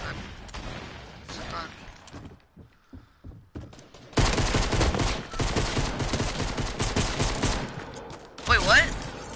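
Video game gunfire during a volcano event, including pistol shots: scattered single shots at first, then dense sustained bursts of rapid fire that swell louder near the end.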